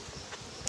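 Honey bees on hive frames give a brief, faint, continuous buzz at close range, with no voices.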